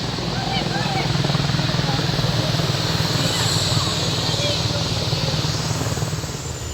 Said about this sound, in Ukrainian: люди зібралися подивитися на вертоліт, як він приземлявся